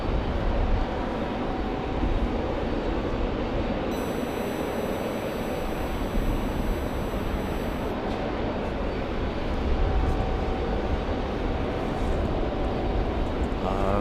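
A United airliner from Denver arrives at RDU airport in steady rain, a broad continuous jet roar blended with rain noise throughout, loud and sustained with no clear peaks, a faint high electronic tone briefly in the middle.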